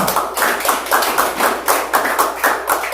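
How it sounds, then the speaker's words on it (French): Hands clap in a steady, even rhythm, several claps per second, loud and close, with no voices over it. "Appréciez-le, s'il vous plaît, par un applaudissement."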